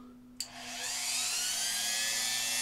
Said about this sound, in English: I have a 1/2 inch felt pad, get it from Amazon, put it on my rotary tool